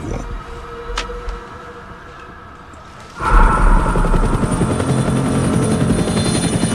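A CIA helicopter arrives loud and close after a quieter stretch, its dense rotor-and-engine roar swelling suddenly at about three seconds and holding steady to the end, with no talking.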